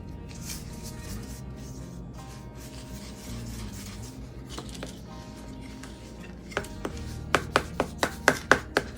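Paint mixture, Annie Sloan paint being worked in, stirred and scraped in a container with a steady rubbing, scraping texture, then a run of sharp, regular knocks or taps in the final seconds.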